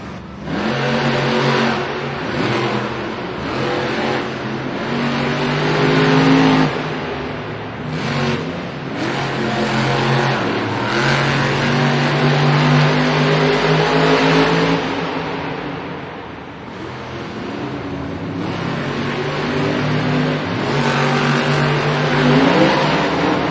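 Monster trucks, including Grave Digger, race head to head at a Monster Jam arena event in Singapore, their big engines roaring and revving loudly and continuously with surging accelerations and crowd noise beneath.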